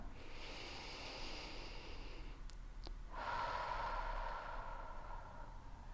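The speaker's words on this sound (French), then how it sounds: "Encore 2 respirations sur ce point-là." Slow, deep breathing during gentle yoga, a soft close airy inhale followed by a longer exhale through the nose, quiet and without talk.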